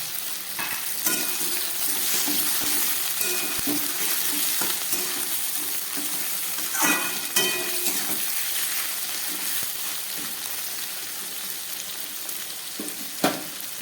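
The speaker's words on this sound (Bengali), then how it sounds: "এবার দিয়ে দিচ্ছি আমি চিকেনটা।" Chicken pieces fry in a pan for a Bengali-style chicken soup, with a constant close sizzle and repeated spoon scrapes and knocks as the pieces are stirred, one sharp knock near the end.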